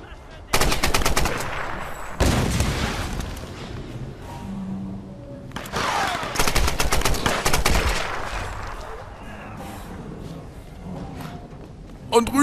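Enemy gunfire in the Tomb Raider video game comes in several loud automatic bursts separated by quieter gaps, with a voice talking between and under the shooting.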